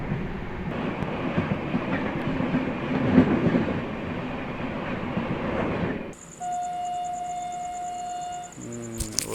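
Nagarsol-Chennai Circar Express rolling slowly on rails through crossings near Manyamkonda station, heard from on board: a loud, steady rumble and clatter for about six seconds, then a quieter constant hum with a steady tone and a brief sharp sound at the end.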